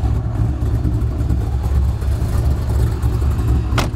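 A 2000 Corvette with a big cam engine runs close by, a loud, steady low rumble with a choppy lope, without any talk.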